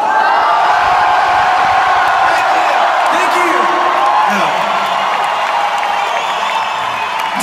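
A large concert crowd at a show in Paris roars, cheers and whoops continuously, a dense, loud wall of noise with scattered shouts rising above it throughout.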